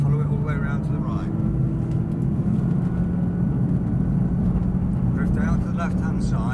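A Nissan GT-R engine pulling hard around a race circuit, a loud steady droning roar from inside the car, with a voice talking over it throughout.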